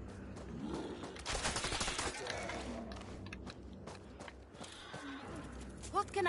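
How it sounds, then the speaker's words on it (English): Scout rifle fire in a zombie-fighting video game, a cluster of sharp shots in the first seconds with scattered mechanical clicks and handling noises afterward, fairly loud within a busy game mix. "Let me try that scout rifle."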